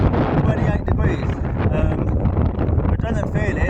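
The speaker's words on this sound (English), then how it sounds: "And you can hear how windy it is." Heavy wind buffeting the microphone on Sotavento beach in Fuerteventura, a loud continuous low roar with a person talking faintly underneath.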